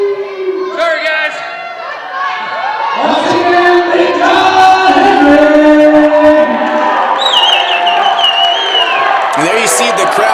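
A wrestling crowd at a live club show yells and chants in rhythmic waves, loud massed voices swelling and holding near the front with whoops and shouts rising over the din.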